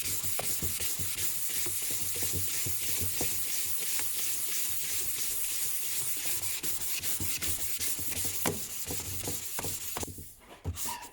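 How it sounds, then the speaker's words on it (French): Filler on a Toyota Starlet spoiler being sanded by hand with 400-grit sandpaper: a steady, close, continuous rasping scrape with a rhythmic back-and-forth texture, easing off briefly near the end. "Donc je vais poncer au 400 et on va voir ce que ça donne."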